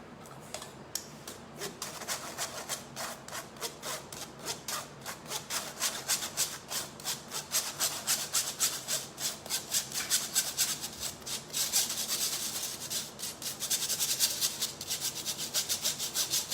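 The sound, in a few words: sifting flour and baking powder through a sieve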